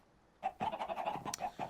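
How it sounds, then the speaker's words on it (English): Chickens in a Minecraft chicken XP farm holding about 40 birds, giving a busy run of repeated clucks and squawks close by after a brief quiet start. "40 chickens in there."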